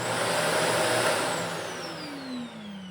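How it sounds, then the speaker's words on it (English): A vacuum cleaner runs loud and close as the base layer for an Iron Man arc reactor sound effect, its broad whooshing roar sweeping down in pitch as it winds down. "So for this shot, let's start with a vacuum cleaner."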